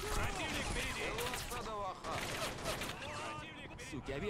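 Gunfire in Men of War: Assault Squad 2 during a Grozny city battle, rapid bursts and scattered shots crackling amid in-game voices and battle noise, fairly quiet overall.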